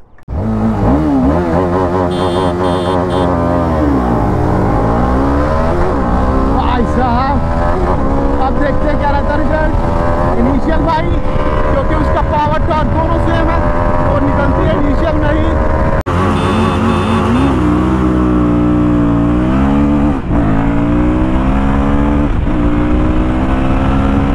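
Royal Enfield Guerrilla 450 and TVS Apache RR310 motorcycles accelerating hard in a drag race, loud engine roars rising in pitch through repeated gear changes, with a voice talking over them.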